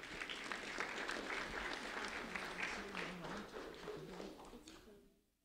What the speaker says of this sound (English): A round of applause for Ariella and Ronnie Gumarov